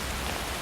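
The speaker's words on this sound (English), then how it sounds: "the racket of the raindrops pelting the helmet" Raindrops pelt a metal armor helmet in Skyrim, a dense, steady patter drumming close and loud without pause.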